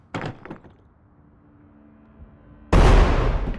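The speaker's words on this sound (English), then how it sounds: "bigger explosion" A grenade in the video game Road to Vostok: a couple of light clanks, a quiet pause, then a sudden loud, close explosion with a booming blast that decays slowly.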